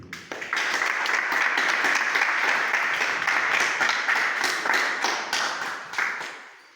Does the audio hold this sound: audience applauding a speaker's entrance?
yes